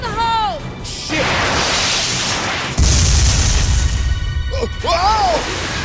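Grenade blast in the shooter game Binary Domain on PC: a loud, heavy boom with a crashing roar that lingers for a few seconds, framed by short electronic whooshes and effect sounds, no clear talk over it.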